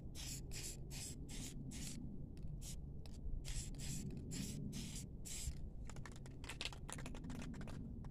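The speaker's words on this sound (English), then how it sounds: "I'm gonna hit this with some dry graphite spray" Dry graphite spray is sprayed from an aerosol can to coat part of a 40 series driver during maintenance. The can releases a rapid, close series of about a dozen short hissing bursts separated by brief gaps.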